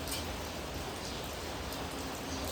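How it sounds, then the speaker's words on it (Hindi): Steady morning rain falls heavily outdoors, a dense, even hiss of drops on surfaces that continues without a break and without any voices. "देख सकते हो इधर में कितना बारिश हो रहा है।"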